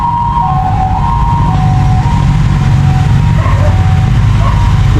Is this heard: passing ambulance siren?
yes